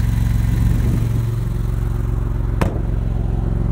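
A 2023 Maserati MC20 with a twin-turbo 3-liter V6 drones steadily and loud, its low hum running throughout with one sharp click near the end.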